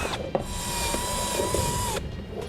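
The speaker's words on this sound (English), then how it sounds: "we're going to drill our holes right in the middle of those slots" A power drill with a 7/32 bit bores holes through slotted metal during an air compressor install on a 2015 Chevrolet, a loud close steady whine lasting about two seconds before winding down.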